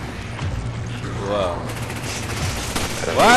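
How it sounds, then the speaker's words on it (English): Gunfire in Resident Evil 5: rapid bursts of shots rattle steadily in the background, with a person talking and exclaiming over them. "Why are they shooting at me?"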